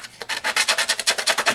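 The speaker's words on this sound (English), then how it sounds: "this is my distressing tool from Tim Holtz." A Tim Holtz distressing tool rasps across the edges of a vintage-style Christmas card in quick, rhythmic strokes, about a dozen close scrapes in a row with no talking.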